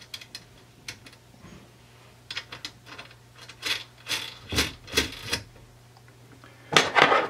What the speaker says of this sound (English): We'll tighten up the nuts